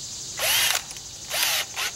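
A power drill with a 3/8 inch bit bores a hole in the end of a lure retriever, heard as two short high-pitched whirring bursts with a pause between, moderately loud and close, no talking.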